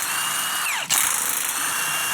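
A power tool spins out 15mm head bolts on a supercharged Chevrolet Silverado pickup, giving a steady high whine that dips briefly, then resumes with a ratcheting buzz, close and loud with no talking.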